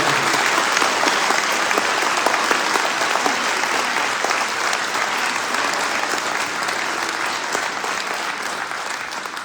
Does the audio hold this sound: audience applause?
yes